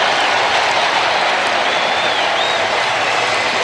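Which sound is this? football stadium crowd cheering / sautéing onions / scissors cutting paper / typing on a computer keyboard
football stadium crowd cheering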